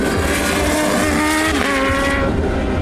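A 1000cc supercharged inline-4 Kawasaki Z H2 motorcycle engine holds a loud, steady roar, its pitch climbing and falling slightly through the brief stretch, with no voices over it.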